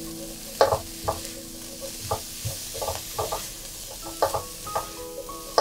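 Chicken breast and bitter melon stir-fried dry in a pan, with a soft steady sizzle under a series of sharp spatula scrapes and clinks against the metal, each stroke landing about once a second, close by with no talk.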